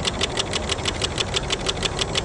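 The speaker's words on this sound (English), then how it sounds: "There's currently no sunlight hitting the engine, and you can see that it's still running." A small solar-powered Stirling engine heated through a Fresnel lens keeps running on stored heat after the sunlight is cut, giving a fast, steady, rhythmic mechanical ticking and whirring heard up close with no talk.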